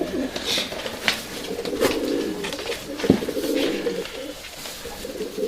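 Urfa Arab pigeons flap their wings in a bout of close, fluttering bursts, mixed with soft cooing and a few sharp wing claps.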